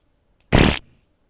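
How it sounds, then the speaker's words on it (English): A single loud, close fart sound effect lasting about a quarter second, heard alone in an otherwise quiet moment. "You get a fart."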